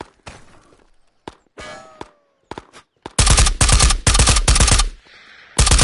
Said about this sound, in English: Oh shit, who's shooting at me?